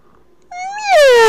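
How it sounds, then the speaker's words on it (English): A cartoon cat gives one loud, close meow, a rising then falling tonal cry that swells and sustains toward the end. "Meow."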